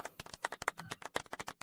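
Quick string of light, close handclaps, a small golf clap of about a dozen soft pats in an irregular rhythm, fairly quiet.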